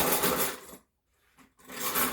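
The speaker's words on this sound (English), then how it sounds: "the way I'm going to mix my eggs is by using a traditional egg beater" Eggs are beaten with a traditional hand-cranked egg beater, giving a fast, whirring, scraping clatter that runs steadily, stops briefly and then starts again.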